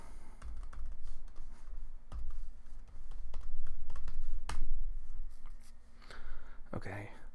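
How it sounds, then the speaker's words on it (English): Fingers tap a password on a computer keyboard in uneven bursts of close, crisp keystrokes, with a louder clack near the end and faint background hum. "If I type the right password."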